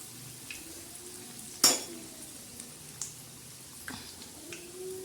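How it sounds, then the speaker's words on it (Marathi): Green chillies coated in gram-flour batter fry in hot oil, giving a steady low sizzle with faint clinks of a utensil and one sharp scrape or clatter early on. "आता ह्या मिरच्या अशा खमंग आणि खरपूस मस्त आता तळत आहे."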